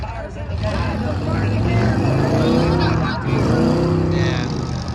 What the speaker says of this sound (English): He's spinning tires in the back.